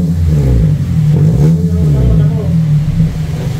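Nissan Livina engine with a new aftermarket exhaust, revving loud and close in a deep bassy drone that rises and falls steadily, heard at night in an exhaust workshop.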